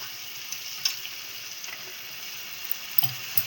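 Fish curry with tamarind fries in a pan, giving a steady, even sizzle with a few soft clicks of stirring, close and continuous, with no talk.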